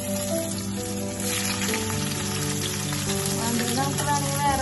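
Dried mackerel frying in hot coconut oil in a pan gives a steady, continuous crackling sizzle that lasts throughout, with a soft tonal hum running underneath.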